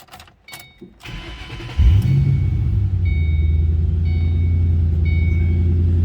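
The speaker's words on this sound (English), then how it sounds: "let's go ahead and fire this up. Let you hear it run" A few clicks and a starter crank, then the supercharged engine of a 2007 Ford Mustang Roush 427R catches with a rising roar and settles into a steady, deep idle close by.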